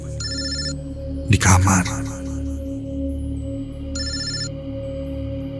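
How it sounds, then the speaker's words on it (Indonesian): A mobile phone rings in two short electronic trill bursts separated by a pause, under a voice narrating over a low droning music bed, with a sharp loud thump between the rings. "Sampai tak lama terdengar suara telepon dari handphoneku yang kusimpan"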